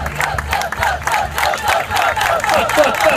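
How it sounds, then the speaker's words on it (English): An audience at a swing band performance claps slowly and steadily together, a loud crowd with cheering mixed in, the rhythmic claps repeating through the moment. "let's slow clap him up"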